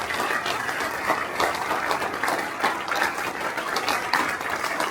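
Crowd at the IAAPA 2024 attractions expo applauds and cheers for a roller coaster unveiling, a loud, continuous burst of clapping with whoops, close and unbroken.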